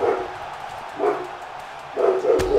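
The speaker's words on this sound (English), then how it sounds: "I got to get out of here because my dog's barking" A dog barking indoors, three separate barks spaced about a second apart, fairly close and clear over a quiet background.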